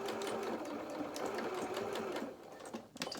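A sewing machine stitching the ear of a fabric lamb doll, a close, steady rapid mechanical whir that slows and stops near the end with a couple of clicks.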